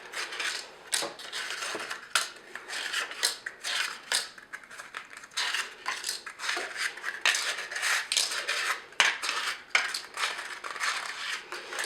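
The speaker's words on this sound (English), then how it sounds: "the first thing that you need to do is line your tins." Paper cupcake liners are pressed into metal cupcake tins, producing dense crinkling, rustling and light tapping close by in a steady busy stream, with no voices.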